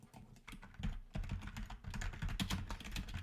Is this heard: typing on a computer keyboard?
yes